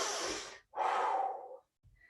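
Heavy breathing after lunges in a total-body fitness workout: two long, loud exhalations, then a short quieter breath, with no talking.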